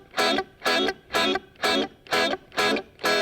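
An electric guitar plays muted chords, seven evenly spaced strummed bursts in a steady shuffle rhythm, moderately quiet and heard alone.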